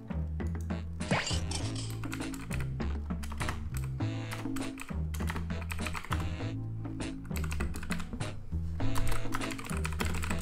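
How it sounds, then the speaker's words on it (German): Fast, continuous typing on a computer keyboard during a live stream, with a dense run of close clicks and a low musical backing underneath throughout. "Ihr hört mich tippen."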